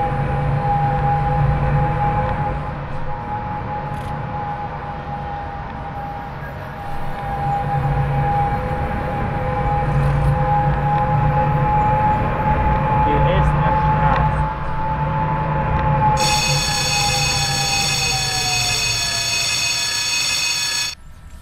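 A Tatra tram in the simulator OMSI 2 on route 301 in the Ruhr area rolls steadily with a constant motor whine and rumbling wheels, loud and close, ending with a sharp high electronic tone or bell near the end; no talk.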